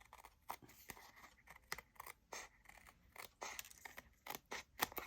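Scissors snip through paper while a junk journal tag is trimmed, giving a quiet, close series of short crisp cuts with brief pauses, irregular in rhythm and without talk.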